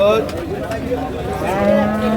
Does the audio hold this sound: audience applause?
no